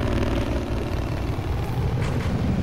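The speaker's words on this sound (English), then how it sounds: "And attack chopper." An attack helicopter in the Battlefield 4 video game roars as a dense, continuous rotor and engine rumble, loud and unbroken, amid other battlefield noise.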